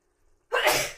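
A single sudden sneeze bursts out near and loud after a moment of near silence, cutting off sharply at the end.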